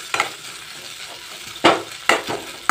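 Ginger garlic paste fries and is stirred in a pan for a pepper chicken dish, giving a steady soft sizzle broken by a few sharp scraping stirs near the end, with no talking.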